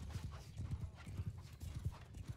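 Galloping horse in the Bannerlord Online video game, its hoofbeats thudding in a quick steady rhythm up close, with a brief whinny and no talk over it.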